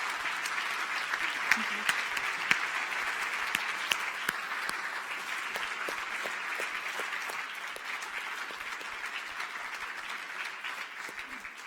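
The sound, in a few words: audience applause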